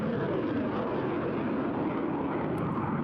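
A Eurofighter Typhoon fighter jet flying a high-G barrel roll at an airshow, a loud, continuous broadband engine roar with a faint rising whine near the end, with no voices.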